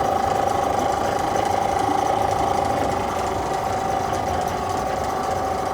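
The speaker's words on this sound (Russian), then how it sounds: "Мотор работает хорошо." A Chinese copy of a Tohatsu outboard motor runs steadily at idle nearby, a constant buzzing, rattling drone with a fine rapid pulse and no speech over it.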